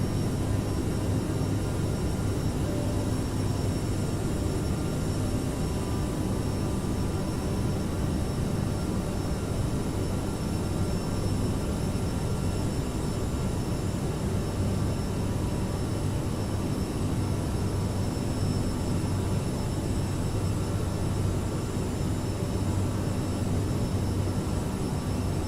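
Aerosoft CRJ700 regional jet engines at climb thrust in Microsoft Flight Simulator, a steady, broad roar with faint high tonal whine, constant and unchanging throughout with no talking.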